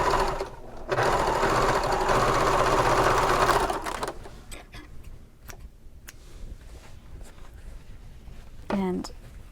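A sewing machine top-stitches the seam allowance of a bag, running in a fast steady whir for about three seconds, then stopping; soft handling clicks and rustles follow, with a brief voice near the end.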